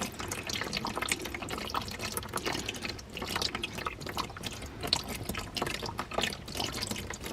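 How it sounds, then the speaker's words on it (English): Old, blackened engine oil drains from a car with an even, trickling splash and occasional drips, faint and close, with no voices. "it looks a bit black, but it's not the worst oil I've ever seen"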